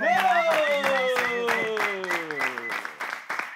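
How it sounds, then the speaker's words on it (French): A studio audience applauds two guests on a French-language talk show, the clapping loud and close and mixed with a sliding, tonal musical jingle that drifts downward in pitch. "Est-ce qu'on peut applaudir ces deux magnifiques dames?"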